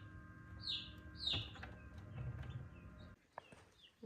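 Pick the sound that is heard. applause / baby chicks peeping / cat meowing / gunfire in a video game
baby chicks peeping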